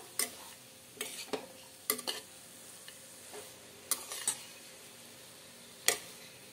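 Curry being stirred in a pan after spice powder goes in, with several sharp scraping strokes of a spoon set over a soft sizzle and quiet gaps between them.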